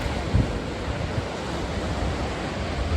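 Black Sea surf washes onto a beach in Bulgaria in a steady, broad rush with wind buffeting the microphone, loud and continuous without any voices.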